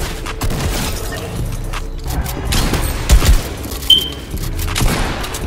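Gunshots in Fortnite, a quick burst of several sharp cracks and booms over a busy game background, with no talking.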